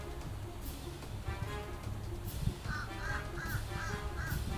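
A crow caws repeatedly near a parked 2019 Ford Transit camper van outdoors, a run of about five harsh calls in the second half over a faint background hum.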